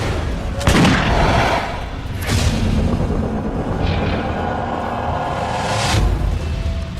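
Early gunpowder weapons firing, a few loud booming shots spaced seconds apart, each with a sharp crack and rumbling tail, over continuous background noise and no talking.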